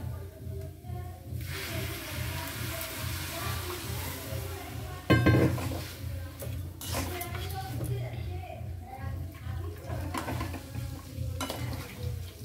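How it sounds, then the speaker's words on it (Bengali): Boiling water poured into a pan of sautéed kohlrabi curry sets off a sudden loud hiss and burst of sizzling midway, amid continuous stirring and clinks of a utensil against the pan. "এবারে কিন্তু আমি এতে দেব একদম ফোটানো জল"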